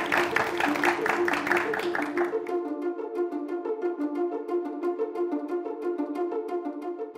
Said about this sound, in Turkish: Alkışlarla buraya alalım lütfen.